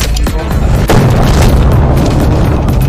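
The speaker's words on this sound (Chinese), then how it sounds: "等歹徒破门而入时" Intruders break a door in during a home-invasion action film: a couple of heavy, booming impacts land early over a loud, dense, rumbling backdrop.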